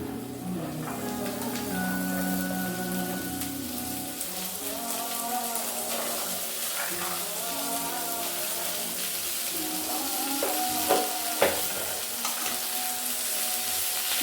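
Vegetables for tawa pulao fry on a hot tawa with a steady hissing sizzle, over which a spatula scrapes and stirs in repeated strokes, with a few sharper clanks near the end.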